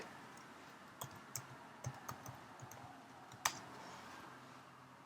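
Faint, sparse clicks of computer keys being tapped out in a quiet room, scattered irregularly with one sharper keystroke near the end.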